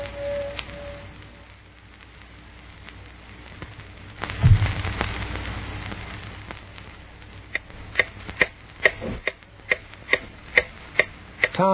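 A clock ticks steadily in a quiet room, its sharp, evenly spaced ticks growing clearer and louder toward the end, with a soft thump midway and no talking.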